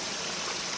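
A Himalayan waterfall stream at Chakki Modh in Himachal Pradesh rushes steadily, a dense, even wash of flowing water with no other sound for a brief moment.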